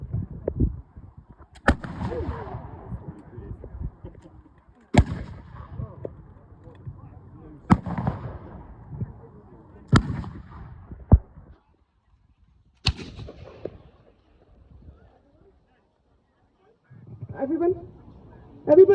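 Black-powder rifles fired by 95th Rifle Regiment reenactors at a battalion demonstration give a ragged string of sharp cracks, about six shots spaced a second or two apart with short echoing tails, and the last one comes after a pause.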